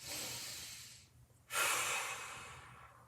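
Relaxed breathing during a held mobility exercise: a soft, slow exhale, a pause, then a stronger, close breath with an airy hiss that fades away, with no talking.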